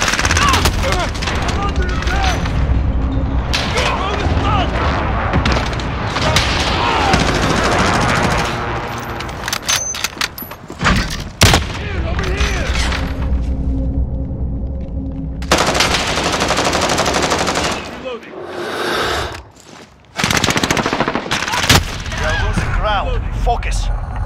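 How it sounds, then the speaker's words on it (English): Call of Duty Modern Warfare team deathmatch battle: loud bursts of rapid machine-gun fire and sharp gunshots, then heavy explosions from a precision airstrike, punctuated by short gaps and brief announcer-style voice callouts. "Allied precision airstrike incoming."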